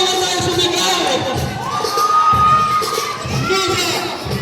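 A crowd at a championship basketball game shouts and cheers loudly, with a dense, continuous roar of voices and rising whoops throughout.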